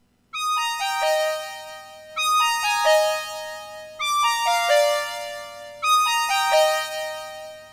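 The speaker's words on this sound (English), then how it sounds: "The fourth sound is brass number 48, windy synth." Roland Juno DS brass synth patch "windy synth" playing a bright lead phrase of bell-like, sustained tones, repeated four times in regular bursts with short gaps between, loud and clean with no voices.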